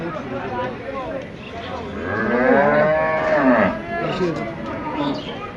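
A cow moos loudly and close by, one long drawn-out low call with a rising middle, amid background chatter.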